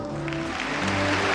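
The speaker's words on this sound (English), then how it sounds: "A great round of applause for her in the hall." Hall audience at the 1975 Miss World beauty pageant applauding a contestant, steady dense clapping throughout with an announcer's voice faintly underneath.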